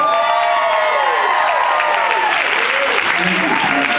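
A large audience at a motivational speaking event claps and cheers loudly for Don, a dense, continuous wall of applause filling the room while a voice talks over it.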